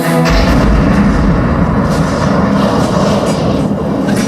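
Heavy cannon fire from the ironclad Virginia battering the wooden warship Congress at close range, a dense, continuous booming rumble that stays loud throughout with no voices.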